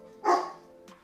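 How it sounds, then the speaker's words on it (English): A dog gives a single short bark at close range, with a faint second yip right after, against a quiet indoor background. "Why are you barking, bro?"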